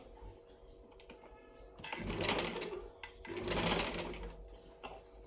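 Two bursts of sewing machine stitching on a lined blouse, each running about a second and a half with a brief pause between, close and fairly loud with no talk.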